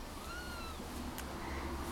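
A kitten wrapped in a soft tea towel for hand feeding gives a few short, high meows close by, fairly quiet against a soft room background.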